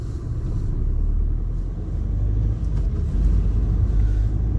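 A car driving home on the road after a car wash, with a steady low engine rumble and road noise throughout and no talking.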